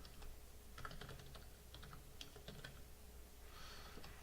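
Close, quiet typing on a computer keyboard as a blog post is written, with irregular bursts of key clicks and a short flurry near the end, alone with no talking.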